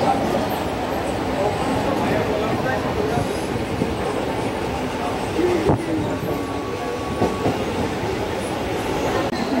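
Mumbai local train running between stations, a loud steady rumble of wheels on rails with occasional clacks and a brief high squeal, filling the whole stretch.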